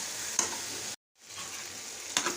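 Pieces of neti beerakaya, a gourd, fry in a pan, making a steady close sizzle with a few stirring clicks and a brief silent break in the middle.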